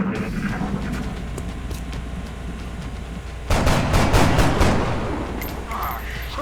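Gunfire in XCOM, a loud burst of several rapid cracking shots midway through over a constant rumbling backdrop of game noise.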